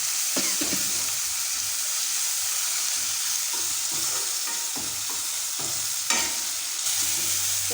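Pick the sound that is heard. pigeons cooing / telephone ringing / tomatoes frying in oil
tomatoes frying in oil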